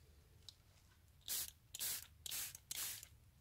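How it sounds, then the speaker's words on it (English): A hand mister sprays ink and water onto bubble wrap in four short, crisp bursts spaced a little apart, close up in a quiet room. "You want to lightly spray"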